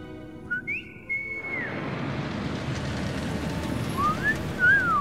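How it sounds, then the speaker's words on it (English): A character in the Hogwarts Legacy video game whistles a few rising and sliding notes, heard over a steady wash of ambient game noise. "That's cool that they all have to use whistle."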